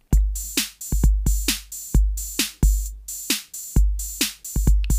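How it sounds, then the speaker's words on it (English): A clean, dry 606 drum machine loop with a punchy kick, snare, and open and closed hi-hats repeating in a steady pattern, loud and up close. "So I started with a simple 606 drum loop."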